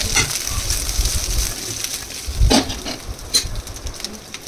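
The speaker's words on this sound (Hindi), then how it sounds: "अब मैंने अलग से ना ऑनियन और कैप्सिकम कटिंग करके रखा हुआ था, अब मैं इसको भी फ्राई कर दूंगी" Onion and capsicum fry in a pan, giving a steady crackling sizzle with stirring scrapes and a few louder bursts, close up and without speech.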